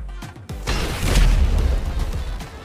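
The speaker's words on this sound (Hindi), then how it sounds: "अभी देख मैं कैसे RPG से इस दरवाजे को ब्लास्ट करता" An RPG rocket blasts a door in GTA V, a loud deep boom that swells and rolls on as a sustained low rumble, with no voices over it.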